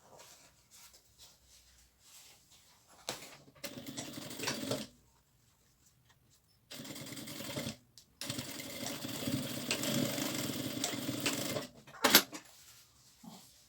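Domestic sewing machine stitching a seam over a drawstring casing, running in separate bursts of steady whirring with pauses between, close and fairly quiet.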